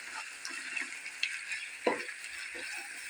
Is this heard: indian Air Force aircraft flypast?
no